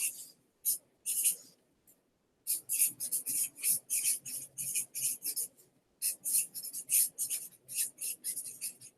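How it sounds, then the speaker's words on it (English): Pen or marker scratching on a writing surface in a lecture setting as a question is written out by hand, a run of quick rasping strokes in bursts with short pauses, fairly close and with no talk. "I'm going to write the question down just so I know you're paying attention."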